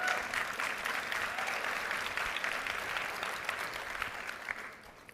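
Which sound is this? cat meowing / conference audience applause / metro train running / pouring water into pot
conference audience applause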